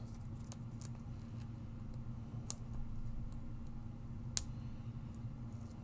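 Scissors snip through release paper during a glitter craft project, two sharp isolated cuts over a quiet room hiss.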